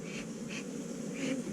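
Honey bees buzz steadily during a hive inspection in honey season, a soft continuous hum with a few louder passes of individual bees close by.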